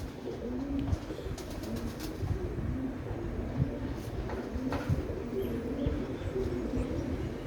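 Sialkoti pigeons coo softly and repeatedly at close range, low rolling calls recurring every second or so over a faint, quiet background.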